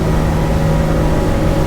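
A Tesoro T40 motorboat engine roars steadily at 33 knots and 5,500 rpm, a loud continuous drone with the rush of the hull over water.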